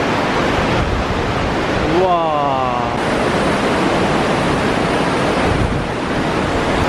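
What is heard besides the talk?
river flowing through a mountain gorge in Taiwan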